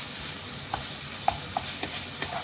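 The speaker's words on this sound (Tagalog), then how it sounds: "nilagay ko na yung minced pork. Yan. Isa-isa hanggang sa maluto." Minced pork frying in a pan, a steady close sizzle with a few light taps and stirs scattered through it, no voices.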